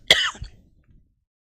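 A single short, sharp cough from one person close to the microphone, followed by a faint throat-clearing rasp and then near silence.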